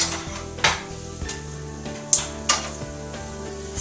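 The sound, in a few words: seitan frying in oil in a pan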